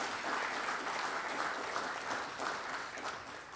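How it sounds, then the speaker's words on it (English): Audience applause at an engineering science hall of fame induction ceremony, a steady wash of many hands clapping at even loudness for several seconds, tapering slightly at the end. "let's give them a round of applause for being so interested and participating"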